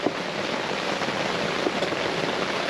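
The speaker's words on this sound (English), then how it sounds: "As you can hear, yes, it is raining" Steady rain falling over a campsite, a continuous broadband hiss of drops on surfaces that stays even and fairly close throughout, with no talking.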